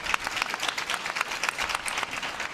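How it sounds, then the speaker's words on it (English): Team China's bench applauds their player at a table tennis match, brisk close clapping from a small group over a quiet arena background. "Team China rise to applaud their leader."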